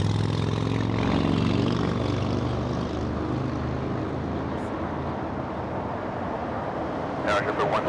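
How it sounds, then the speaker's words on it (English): Jet airliner taking off from runway 25 left at LAX, a loud broad engine roar that is strongest at the start and eases slightly as it continues, with faint speech near the end. "Couple of A380 takeoffs on 25 left. Back-to-back A330s."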